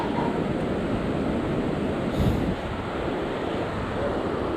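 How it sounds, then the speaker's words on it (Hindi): Fast-flowing river water on the route to Askole rushes in a loud, continuous roar close by, blended with wind buffeting the microphone and no voices. "पानी का बहाव तेज़ है।"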